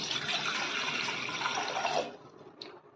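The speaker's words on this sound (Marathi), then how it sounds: "पाणी ओतते" Water pours steadily into a cooking pot in a kitchen for about two seconds, a bright continuous splashing that stops abruptly, followed by a faint drip.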